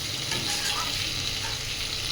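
Continuous close sizzle of tengra fish frying with potatoes and drumsticks in a pan, an even crackling hiss holding steady throughout with no voices.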